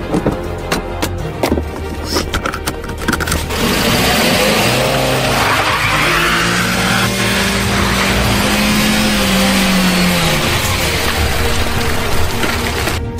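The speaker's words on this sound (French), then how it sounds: "Pashka, accélère, dépêche-toi, Pashka." A car revs hard and accelerates with its tires squealing in a long, rising skid that holds for several seconds, loud and near, following some clattering bumps at the start.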